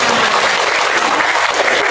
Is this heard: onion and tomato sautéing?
no